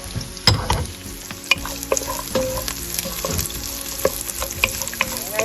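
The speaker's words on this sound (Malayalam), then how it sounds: "അതിലേക്കാണ് കുക്കറിൽ വെന്ത ബീഫ് ചേർത്ത് കൊടുക്കുന്നത്" Pressure-cooked beef and chopped coconut fry in hot oil in a Kerala-style beef roast, making a loud, close, continuous sizzle and crackle with occasional scrapes and clinks of a stirring spoon.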